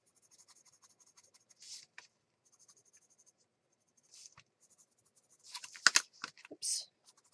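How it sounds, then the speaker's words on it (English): Staedtler Art watercolor pencil scratching across paper, faint intermittent strokes building to quicker, louder bursts of scribbled coloring near the end. "So I'm grabbing a blue. This is a Staedtler Art watercolor pencil."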